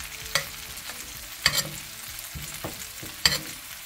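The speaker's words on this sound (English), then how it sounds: "I'm gonna put some fresh rosemary and thyme here. Let it start cooking down in our butter." Fresh rosemary and thyme sizzle in butter in a Hexclad pan, a soft, continuous crackle broken by a few sharper spits and stirring knocks, fairly quiet and without talk.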